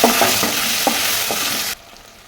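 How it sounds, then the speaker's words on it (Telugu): Tempering spices frying in hot oil with tomato, green chili and onion give a loud, continuous sizzle broken by a few stirring scrapes, then cut off abruptly near the end. "పోపు దినుసులు వేగాక టమాటా, పచ్చిమిర్చి, ఉల్లిపాయ వేసి కొద్దిసేపు వేగనివ్వాలి"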